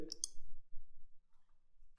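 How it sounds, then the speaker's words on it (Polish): Computer mouse clicks on a column header arrow in Windows 8, two quick sharp clicks right at the start followed by near silence. "klikam w tą strzałeczkę obok tego nagłówka typ"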